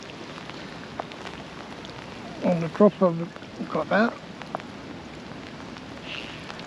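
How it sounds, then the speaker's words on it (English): Steady hiss of heavy rain falling throughout at a trout fishery in Essex, with someone speaking briefly over it in the middle. "and now it's raining like anything."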